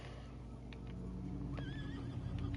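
A short, high whinny from a horse in the Fishing Planet fishing game rises over a steady, droning outdoor ambience during a topwater kayak tournament, fairly distant and brief.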